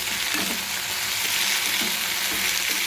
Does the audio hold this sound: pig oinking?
no